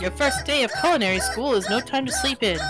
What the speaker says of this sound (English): It's the sound of an epileptic chicken,